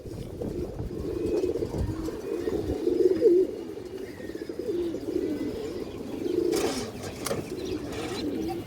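Khaki Indian highflyer pigeons coo in soft, low, rolling calls that repeat steadily throughout, close by, with faint chirps and rustling in the background and no talking.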